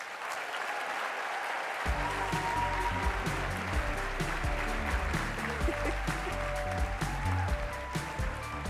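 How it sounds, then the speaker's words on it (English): A large audience breaks into loud, sustained applause as Trevor Noah is welcomed to the stage. It starts abruptly after a near-silent pause and stays dense and steady throughout. "It's okay, you all can clap and stuff."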